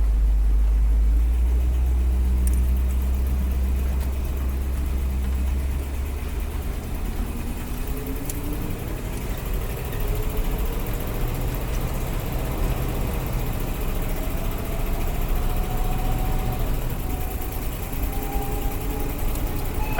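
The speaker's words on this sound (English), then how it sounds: "I really need to fix that exhaust leak." A 1956 Cadillac Sedan DeVille engine idles steadily for a long stretch with a low, rough rumble and a ticking, puffing quality from an exhaust leak, fairly close.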